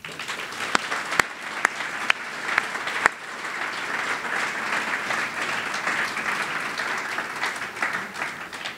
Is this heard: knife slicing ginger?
no